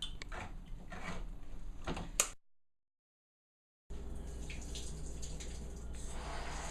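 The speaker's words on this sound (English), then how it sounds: "I'm gonna rinse some fresh water over it" Running tap water splashes steadily over canned corn being rinsed, cuts off for a moment of silence, then resumes flowing.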